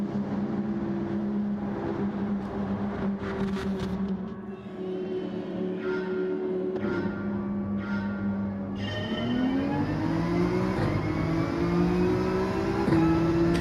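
Racing car engines in a racing video game, including a Porsche, whine and climb in pitch as cars accelerate, with a sharp rising rev near the end over a steady engine drone.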